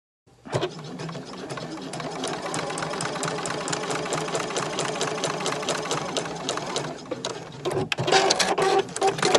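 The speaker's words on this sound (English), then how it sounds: "I'm going to take it to the machine, and I'm actually going to sew probably 2 lines within that 1 inch grid" A sewing machine stitching lines across a 1 inch grid on small fabric scraps, running at a fast, steady rhythmic clatter up close, then briefly pausing and restarting louder near the end.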